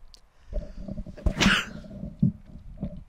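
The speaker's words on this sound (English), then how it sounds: "Sorry for sneezing in your ear there, folks." One loud, close sneeze bursts out amid faint shuffling and handling noises, followed by a small sniff.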